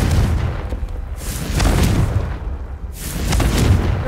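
Confringo blasting spells explode in Hogwarts Legacy, three heavy booming bursts about every one and a half seconds, loud and close, with no speech over them.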